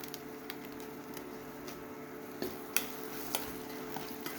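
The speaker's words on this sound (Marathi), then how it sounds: "आता याला छान परतून घेऊ तेल सुटेपर्यंत." Gravy masala for paneer being sautéed in a pan: a low, continuous sizzle with occasional scraping stirs and light utensil clicks against the pan, close and fairly quiet.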